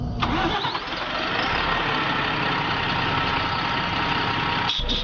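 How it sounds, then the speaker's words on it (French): The big diesel engine of a Griffon armored vehicle, a 400-horsepower Renault Truck inline six-cylinder, cranks and settles into a steady, rumbling idle, close and continuous with no talk. "La motorisation du Griffon est un moteur Renault Truck de 400 chevaux en 6 cylindres en ligne"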